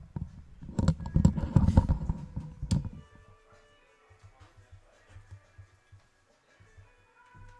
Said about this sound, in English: I'm just typing real quick.